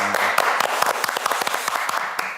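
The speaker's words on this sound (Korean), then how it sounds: "우리 주님께 영광의 박수를 드리겠습니다" A small group at a home worship service claps briefly, a quick patter of hand claps close by that fades toward the end.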